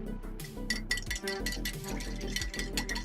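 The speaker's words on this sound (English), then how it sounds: "You can hear the clinking and the clanking." Repeated glassy clinks and clanks of utensils and vessels during hojicha tea preparation with a whisk, a steady run of close, bright taps spread over the whole moment, heard alone without talk.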